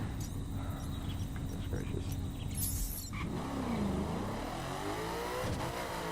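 A car on the Laguna Seca circuit in The Crew racing game drones steadily with its engine, revs rising and sweeping in pitch partway through, heard up close as a continuous game soundtrack.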